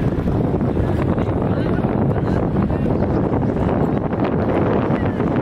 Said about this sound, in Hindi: हवा काफ़ी तेज चल रही है इस समय।